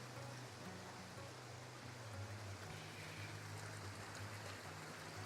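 Creek water runs along a cave wall on the Cave Creek Trail between Santa Fe and Taos, a steady, continuous rushing wash with a low rumble beneath it and no voices.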